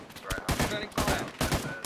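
Gunfire in the video game Arma 3, with several sharp, close shots coming in uneven clusters and mixed with brief shouted voices.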